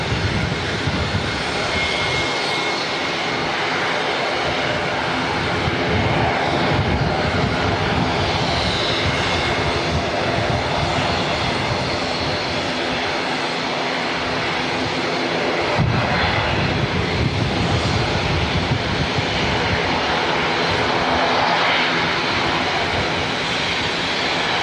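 An aircraft arriving at Auckland Airport from Nelson makes a loud, sustained engine roar across the whole stretch, swelling slightly midway, with no voices.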